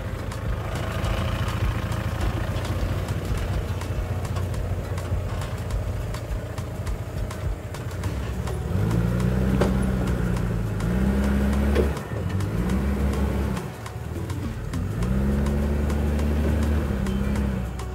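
An off-road car at a private off-road training session in Medan, North Sumatra: the engine idles at first, then rises in a few repeated revs as gas is added, close by and loud.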